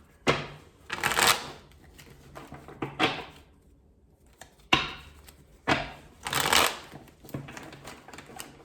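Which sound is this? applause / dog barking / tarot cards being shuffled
tarot cards being shuffled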